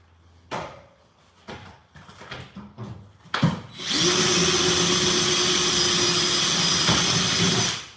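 A power drill bores out rivets on a bus, starting after a few sharp knocks and clanks, then running as a loud, steady, continuous whine for about four seconds with no talk.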